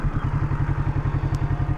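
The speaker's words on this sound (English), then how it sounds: "So yeah, you turn on the bike" A Kawasaki Z650 motorcycle engine runs close by in a steady, rapid thumping idle with an even pulsing rhythm, loud and with no talk.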